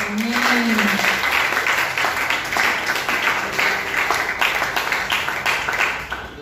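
A church congregation at a fasting and prayer service applauds, with sustained clapping and scattered voices calling out in praise, fairly loud and continuous.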